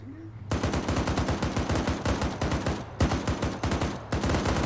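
Sustained automatic gunfire aimed at a technical vehicle, loud and close, firing in rapid continuous bursts with two brief pauses, beginning after a short quiet moment.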